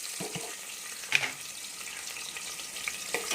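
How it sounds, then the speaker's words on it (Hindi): Onions fry in oil in a pot with bay leaf, cloves and cinnamon for a black chickpea curry. The sizzle is soft and steady, with a couple of light stirring clinks and no talk. "प्याज़ों को हल्का सा हम लाइट ब्राउन करेंगे"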